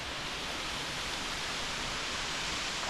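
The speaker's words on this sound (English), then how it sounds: "There's the waterfall." A waterfall in the Blue Mountains roars as a steady, even wash of rushing water, heard at a distance and alone, with no voices.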